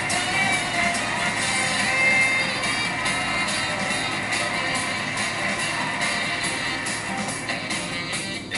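A studio audience cheers and whoops in the Wheel of Fortune game on PS4, a dense, steady roar of many voices holding at a loud level throughout with no talk over it.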